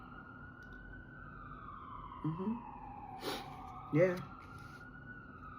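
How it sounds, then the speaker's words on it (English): A siren wails steadily in the background, slowly falling in pitch, while someone speaks a few short words over it. "Look, hear the ambulance,"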